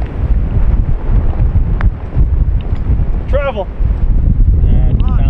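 Strong wind buffets the microphone with a heavy, rumbling roar on the Pacific Dunes golf course at Bandon Dunes, while a person speaks a few words over it.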